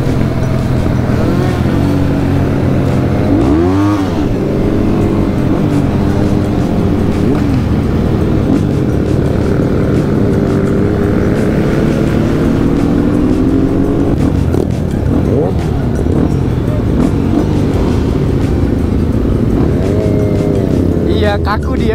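Big motorcycle riding past on the road during a Sunday morning group ride, a loud engine drone that swells and fades under continuous wind noise.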